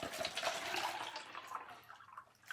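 Hot and cold water poured together from containers into one vessel, a steady close splashing stream that gradually thins and tapers off over a couple of seconds.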